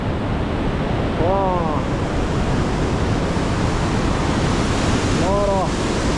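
Rushing river water in the Jagodinska river gorge, heavy despite drought, makes a loud, steady broadband roar close by, and a voice briefly sounds over it twice.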